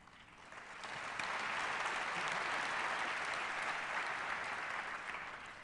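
Sustained audience applause at a keynote panel on educating future leaders, swelling within the first second into steady, dense clapping that holds evenly before tapering slightly at the end, with no voices over it.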